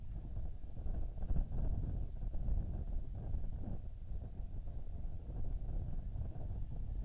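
Steady low wind rumble at Wilder Park during a college baseball game buffets the microphone, a continuous blustery roar with no clear breaks throughout.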